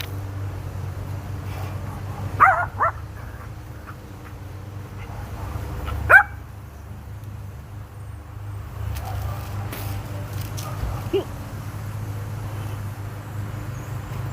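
Dogs being bathed give a few sharp barks and yips in short bursts, with quieter whimpers and low background noise between them.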